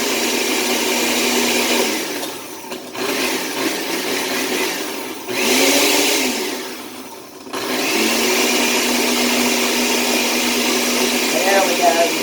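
A food processor blends basil, garlic, olive oil, pine nuts and cannabis into pesto, a loud whirring motor with two brief pauses, its pitch shifting as it restarts, close up.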